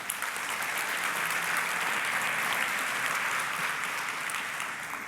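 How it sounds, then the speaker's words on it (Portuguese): A church congregation claps together in sustained, even applause for several seconds, a full roomy wash of hands with no speech over it. "Aplauda Jesus mais uma vez"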